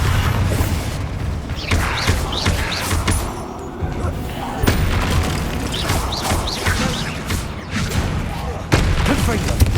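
Spell blasts from Incendio and Bombarda in Hogwarts Legacy sound as repeated booming explosions and crashes, loud and close, in dense bursts with a spoken voice mixed in.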